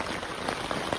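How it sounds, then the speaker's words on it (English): Pouring rain drumming on a tent during a night campout, a dense, steady patter close by with no voices. "Woke up a little bit ago and it was pouring rain."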